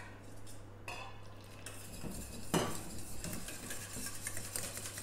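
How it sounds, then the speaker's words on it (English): Homemade hand sanitizer gel is stirred in a bowl, soft scraping and clinking of a utensil against the container with a louder knock midway, over a steady low hum. "And stir it through at each step so I keep my gel network."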